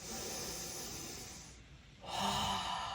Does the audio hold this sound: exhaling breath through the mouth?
yes